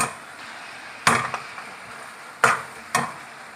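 Ingredients for curry chicken being chopped on a board, three sharp separate knife strikes spaced over a few seconds against quiet kitchen background.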